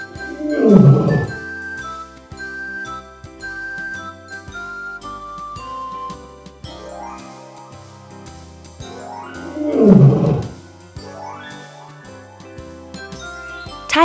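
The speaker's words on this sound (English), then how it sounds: "Lion." A lion's roar sounds twice, each a short loud burst, over a steady tinkling, bell-like music bed in a children's animal-naming sequence.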